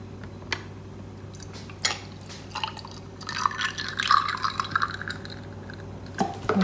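Milk pours into a glass already holding a few ice cubes for dalgona coffee, giving a run of close, wet glugging and trickling with faint clinks, and no voices.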